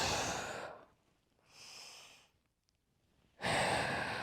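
Slow deep yoga breaths pass close to a microphone in a quiet room: a long airy exhale, then a softer inhale, a pause, and another strong exhale.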